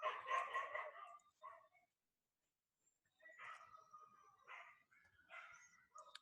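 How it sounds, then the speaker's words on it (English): Several dogs bark in a residential neighborhood, a burst of repeated barks up front, a pause of near silence, then further scattered barks and yips at moderate distance, with no talk over them. "there are some dogs barking in my neighborhood"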